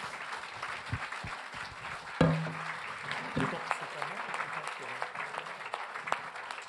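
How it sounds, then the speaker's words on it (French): Warm applause from the audience at a French political debate evening held by LR in January 2019: continuous clapping with a few sharper claps and thumps, while voices are heard over it. "Vous pouvez l'applaudir très chaleureusement."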